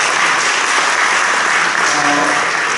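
Loud, steady applause from the audience at a church policy debate for candidates in a denominational general assembly election, sustained and dense for the whole stretch with no break.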